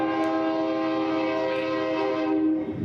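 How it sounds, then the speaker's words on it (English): A train horn blares in one long, steady, loud tone for nearly the whole stretch as the train passes nearby, cutting off at the end, with no talking. "Here comes the train again"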